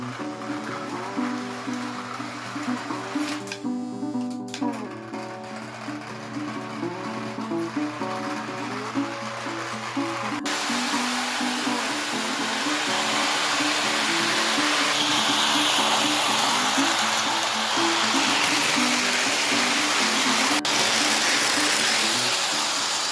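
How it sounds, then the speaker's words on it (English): A Lionel postwar 2018 toy train locomotive, freshly lubricated at the bearing plate, running around its track with a steady whirring motor hum and rhythmic rolling clatter, a brief sharp ratcheting burst early on. "We got the 2018 all set up, and we'll show you that all of that grinding and hesitating and all of that noise, that's all gone."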